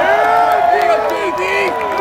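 Outdoor crowd at the Groundhog Day celebration in Punxsutawney cheering and clapping for the thunder conductor, a loud continuous wash of applause with shouts and whistling voices over it.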